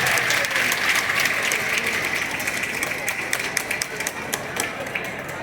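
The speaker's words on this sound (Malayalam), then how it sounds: "മക്കളൊരു കയ്യടിക്കും." Schoolchildren at a government high school honouring ceremony clapping together, a dense burst that gradually thins into looser, uneven claps, with voices speaking over it.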